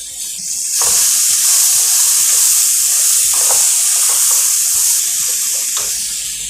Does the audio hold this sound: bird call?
no